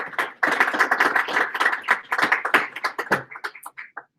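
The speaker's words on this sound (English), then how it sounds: "Round of applause." Conference audience at an Angular web developer event applauding a speaker, a dense burst of clapping from many hands lasting several seconds before thinning out.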